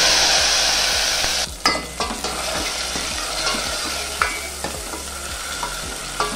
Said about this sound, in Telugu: ఇందులోనే టొమాటో వేసుకోవాలి।